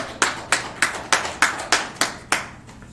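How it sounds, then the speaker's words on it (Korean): A church congregation claps in unison during a Sunday service, about eight sharp, evenly spaced claps ringing out at a steady pulse with no voices over them. "우리 주님께 영광의 박수 올려드립니다."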